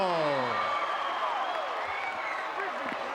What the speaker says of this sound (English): Tremendous round of applause here